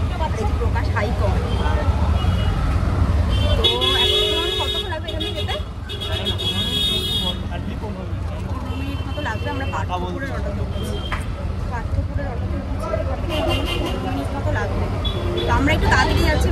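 Road noise heard while riding in an auto rickshaw through traffic: a constant loud engine drone and rumble with passing vehicles, plus horn-like tones, under near-continuous talk.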